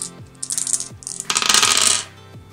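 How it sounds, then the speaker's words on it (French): Dice are thrown during a tabletop wargame, making several quick clattering rattles as they tumble and bounce across a hard surface, with a longer busy roll in the middle; there is no talk. "il va jeter 3 dés en défense."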